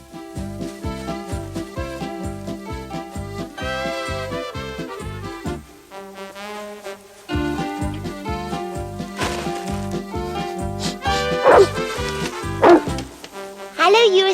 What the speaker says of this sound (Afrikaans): Dis nou die tweede keer dat jy jou neus in my hooi steek en blaf.